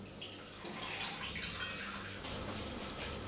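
A quarter bowl of lentils is washed under running tap water, giving a steady, fairly quiet rushing splash throughout, with no talk.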